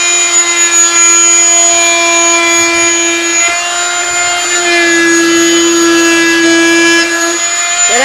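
A power sander works into corners, its loud, steady motor whine holding a high pitch that shifts slightly as the pad presses into the surface, continuous and close, with no voices.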